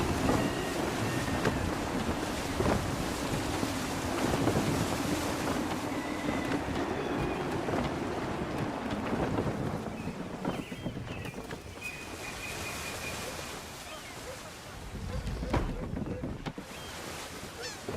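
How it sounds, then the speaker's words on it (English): Wind and rushing water surround a sailing ship in the game Assassin's Creed 3, a continuous rumbling wash of gusts and hull noise with a few brief creaks and knocks, no speech. "Gusty winds can be difficult to manage."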